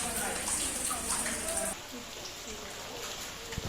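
Heavy rain pours steadily outdoors during a crab-hunting outing, a dense close wash of drops that lightens slightly partway through and runs on without a break.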